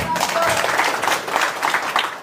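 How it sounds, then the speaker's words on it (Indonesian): Audience applause at an Eco Racing partner gathering fills the room as a dense, steady wash of clapping, fairly loud and sustained for a couple of seconds. "Aplaus buat Banten."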